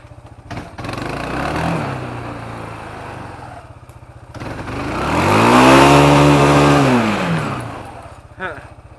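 Kawasaki Bayou 250 quad engine idling with a steady putter, then revving up twice in long rising and falling swells, loud and nearby, with someone talking over it.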